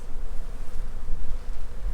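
Honeybees swarm close around an open backyard beehive during a spring inspection, their dense, loud buzzing continuous throughout with no voices.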